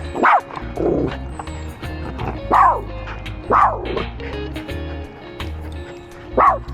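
Milo, a dog, lets out several sharp barks and yips at irregular intervals, fairly close, with a faint voice murmuring now and then between them.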